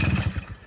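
A 1996 Tomos Sprint moped with new piston rings being kick-started: a short, loud, close burst of mechanical thumping and clatter from one kick, with no talking.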